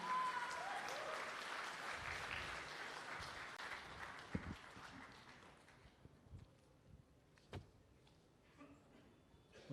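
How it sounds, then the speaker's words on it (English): A large audience at the launch of an Indian AI product breaks into loud applause that tapers off after about five seconds, leaving scattered single claps and quiet room noise. "Can we have a huge round of applause for him?"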